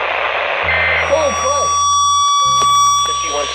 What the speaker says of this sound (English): This is a test of NOAA weather radios warning alarm.